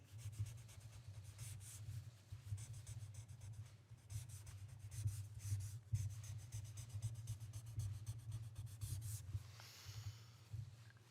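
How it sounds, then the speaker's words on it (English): A pen signs a document with a soft, continuous scratching that runs for several seconds, close by, over a low background hum. "I'm signing this"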